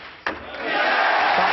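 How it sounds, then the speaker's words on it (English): Crowd applause and cheering for a new UK snooker champion, a sudden loud burst of clapping and shouts that swells and holds at full strength. "Just listen to that applause for a really wonderful champion."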